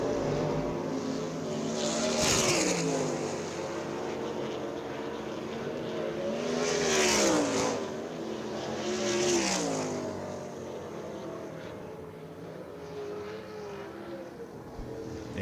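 USAC race cars turning hot laps on the Belleville High Banks dirt oval, engines rising and fading as cars pass in waves, several loud swells under a steady roar.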